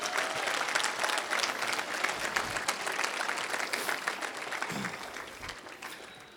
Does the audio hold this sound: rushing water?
no